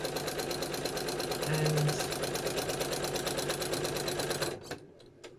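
A sewing machine stitches space-dyed thread around the edges of a Gelli-printed art journal page, running in a fast steady patter for about four and a half seconds before stopping abruptly, with a brief spoken word.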